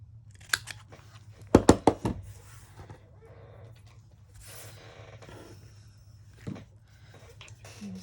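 Scissors snip through a junk journal card in a short burst of close, crisp cuts, with a few scattered rustles and faint handling before and after.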